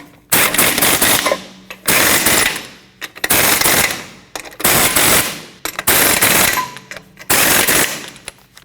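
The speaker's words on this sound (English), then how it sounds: "Now you can tighten down all your lug nuts." Impact wrench tightening lug nuts on a 2012-2021 Nissan NV2500 wheel: six loud, close rattling bursts of hammering, each about a second long, separated by short pauses, with no talking.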